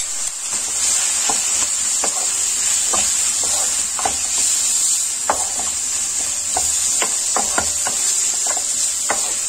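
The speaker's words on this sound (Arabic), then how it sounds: "كنخلطوهم مزيان، وكنخليو الدجاج ديالنا يدخل مع البصلة وديك العطرية تدخل وتشحر مزيان" Chicken pieces frying with onion, cumin and paprika while being stirred in a pan, a steady loud sizzle and hiss broken by repeated scraping clicks of the spoon, no talking.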